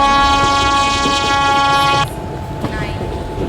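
A train horn blares loud and steady at an Indian railway station platform for about two seconds, then cuts off, leaving platform rumble and a faint screech.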